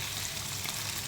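Hotdog and mushroom frying in a pan for pasta, a brief continuous crackling sizzle with a low hum beneath and no talk.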